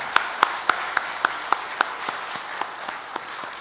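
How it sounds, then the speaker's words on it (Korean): A church congregation claps to thank fathers, with a few distinct louder claps up front over a thinner spread of applause that tapers off toward the end, no talking. "우리 박수로 좀 함께 감사하고"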